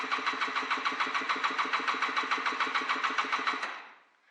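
Honda NSR 125 motorcycle, after sitting for two years, cranking on its electric starter in a fast, even rhythmic whirr for about three and a half seconds before winding down, close and fairly loud.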